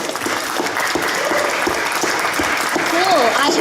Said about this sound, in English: Can we give another round of applause for Bliss?